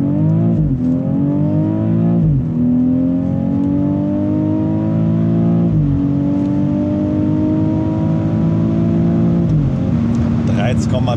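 Petrol engine of a 2023 BMW X3 M40i SUV pulling hard through repeated gear changes, its revs climbing in steady sweeps with brief dips at each shift, loud and continuous from inside the cabin.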